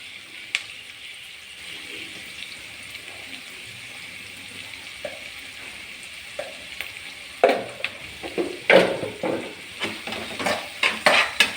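Tomato rava upma sautés in a pan, a soft sizzle under light stirring that grows into repeated scraping and clattering strokes of a spoon against the pan toward the end.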